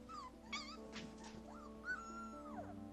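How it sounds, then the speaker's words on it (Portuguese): Wolf pups howling in high-pitched, wavering calls, several overlapping yips, whimpers and rising-and-falling howls, fairly faint and close together with no talking. "Os filhotes de lobos uivam exatamente do mesmo jeito que os adultos, mas devido a seu tamanho, seus chamados são em um tom bem mais alto."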